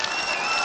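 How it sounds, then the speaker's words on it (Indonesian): Audience applause for Prabowo Subianto at the closing of the NasDem party's third congress, a brief, dense burst of clapping from a large crowd with no voices. "Tepuk tangan sekali lagi untuk Presiden terpilih Bapak Prabowo Subianto."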